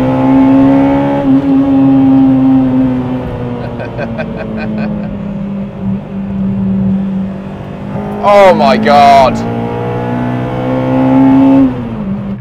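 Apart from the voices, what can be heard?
restored car driving hard around wet corners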